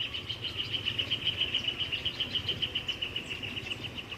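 Birds in a leafy garden give a steady, fast run of high chirps throughout, moderately close and fairly soft over a low background hum, with no talking.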